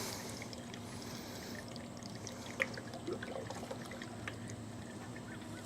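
Coolant pours into a 4-core radiator on a Chevy V8 casket car, a faint continuous trickle heard close against a quiet background.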